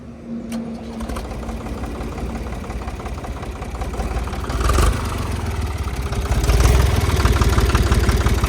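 A tractor engine running near idle outdoors in Maharashtra, a steady chugging mechanical drone that swells briefly twice as it revs slightly, close and continuous, with no clear talk.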